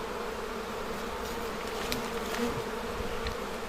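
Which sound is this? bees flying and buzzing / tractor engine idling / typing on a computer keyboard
bees flying and buzzing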